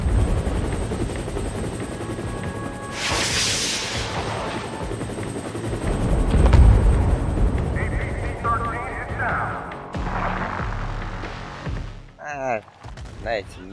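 A helicopter's rotor chop and engine drone run through combat in the video game inFamous: First Light, mixed with gunfire, explosions and other game effects, while someone talks over it.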